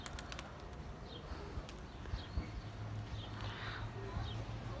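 Sinekli sabuni flying pigeons coo softly in low, drawn-out murmurs in a loft, steady through the middle and end, with faint rustling and a few sharp high clicks in the background.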